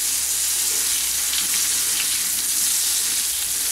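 Spices fry with chopped pointed gourd in a pan for a kasundi mustard potol curry, giving a loud, steady, continuous sizzle with faint stirring scrapes and no talking.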